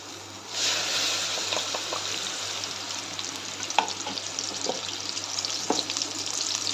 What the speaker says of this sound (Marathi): आता आपल्याला ह्याच कढाईमध्ये आपल्याला परतलेल्या कढाईमध्ये हा मसाला टाकायचा आहे